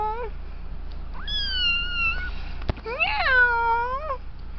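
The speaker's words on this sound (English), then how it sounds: "Meow." A pregnant house cat gives several clear, close meows, drawn-out and rising then falling, with a short pause between calls and a quiet room behind.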